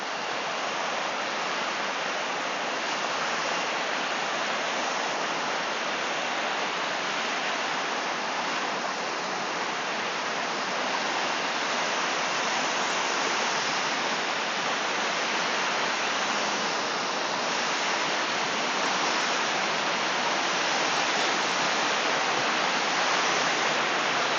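Tat Yai waterfall in Phetchabun pours down in a constant, dense roar of falling water, steady and unbroken, heard from a forest trail leading down toward the base of the falls.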